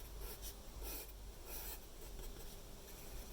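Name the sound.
pencil drawing on paper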